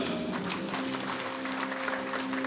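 A crowd at an awards ceremony for disabled workers claps steadily, a soft, even wash of applause heard from a moderate distance with no clear pauses.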